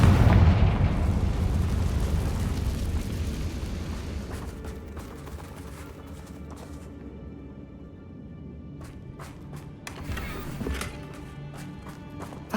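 A Confringo blasting spell explodes in the Hogwarts Legacy video game inside a mine held by goblin loyalists, opening with a loud deep boom that rumbles and fades over several seconds, followed by scattered smaller crackles and debris pops.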